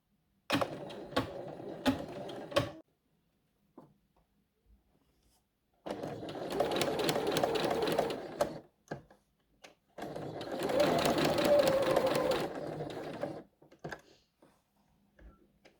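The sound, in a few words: sewing machine stitching dress straps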